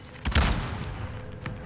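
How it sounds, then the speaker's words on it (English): Gunfire in the Call of Duty Warzone video game: a short burst of shots, loud and close, trailing into a fading rumble with a faint second report near the end. "Taking shots here."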